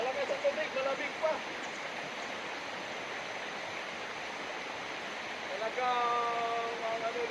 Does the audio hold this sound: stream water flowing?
yes